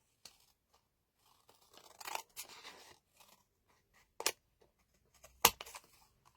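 Scissors snip through designer series paper for a handmade card, giving several crisp, irregular cuts close by, quiet overall with one sharper snap near the end and no talking.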